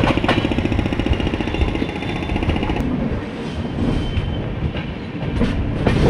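The Satavahana Express, an LHB train, pulls out of Khammam station amid renovation works, with a loud, steady rumble and rhythmic clatter of wheels over rail joints, no voices.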